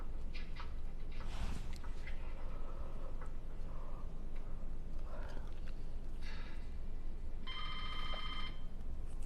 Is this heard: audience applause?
no